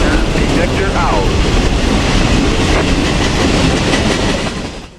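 A freight train on a Central Florida line rolls past fairly slowly with a loud, dense rumble and steady rail clatter that fades at the very end.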